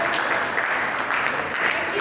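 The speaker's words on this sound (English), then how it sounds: "A big applaud for this boy." Audience of students at an Abhinav Global School career counselling session clapping for a boy, a brief, steady round of applause from a nearby group with possible voices mixed in.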